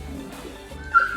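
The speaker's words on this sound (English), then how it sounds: "Sounds like I got a dog that wants to go outside." Indoors, a dog yips and whimpers to be let outside, a short, high, thin cry over faint background noise.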